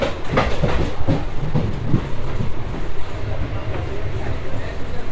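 A passenger MEMU train runs along the track, heard from inside an empty carriage as a steady loud rumble with clattering wheel knocks throughout.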